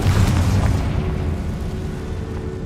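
Confringo fire spell exploding in Hogwarts Legacy, a heavy booming blast with deep rumble at the start that decays into a lingering low roar.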